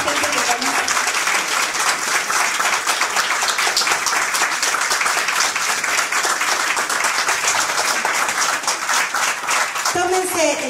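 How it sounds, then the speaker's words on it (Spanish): An audience at a live presentation in the Casa del Chubut hall in Buenos Aires gives artist Marta sustained loud applause, dense clapping holding steady before easing off near the end as a voice begins. "Le vamos a dar un fuerte aplauso a Marta."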